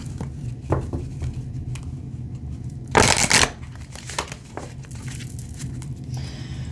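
A deck of rune cards is shuffled by hand, soft papery riffles and slides close to the microphone, with one louder burst of riffling partway through.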